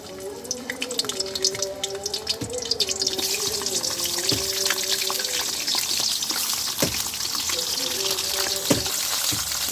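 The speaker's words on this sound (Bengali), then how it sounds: "মাছের মাথাগুলো ভেজে নিতেছি।" Hilsa fish heads fry in hot oil with a steady, busy sizzle and crackle that swells after the first moment and carries on without a break, with faint tonal sounds running underneath.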